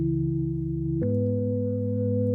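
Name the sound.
organ sound from the Falcon software synthesizer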